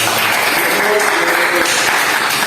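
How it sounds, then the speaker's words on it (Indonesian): A class of students applauds during a Buddhist religious education lesson, a steady close burst of clapping filling the room, with some talking underneath. "Tepuk tangan dong."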